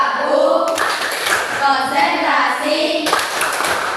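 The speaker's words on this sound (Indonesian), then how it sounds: "yaitu tepuk konsentrasi. Ya. Tepuk konsentrasi." Children perform the 'tepuk konsentrasi' concentration clapping routine, a steady run of sharp group claps mixed with young voices chanting close by.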